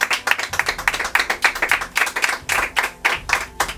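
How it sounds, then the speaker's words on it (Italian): A studio audience on the Italian TV show Strafactor (2015/16 season) gives loud, close, rhythmic applause that is dense and continuous for a few seconds. "Alessia Mazzoni, un applauso per te"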